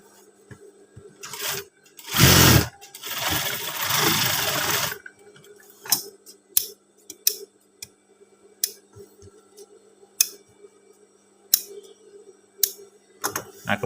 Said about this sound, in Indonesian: Kita jahit untuk sakunya.